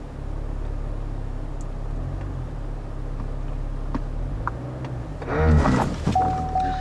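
A 2014 Cadillac CTS V-Sport reverses slowly toward a wall with a low, steady idle rumble, then a sudden brief jolt and noise burst near the end as the car brakes itself.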